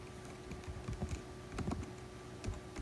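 Someone types one-handed on a computer keyboard, giving a quiet, irregular run of close clicks and key taps with no talking.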